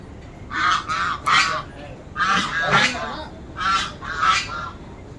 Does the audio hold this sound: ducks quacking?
yes